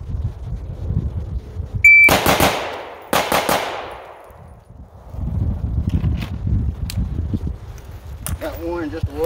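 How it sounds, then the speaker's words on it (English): A shooter at seven yards fires a carbine and then transitions to a pistol, giving sharp, loud gunshot reports in quick bursts with gaps for the switch, plus some clatter and background noise in between. "It's gonna be 3 rounds with the carbine, transition, and 3 rounds with the pistol."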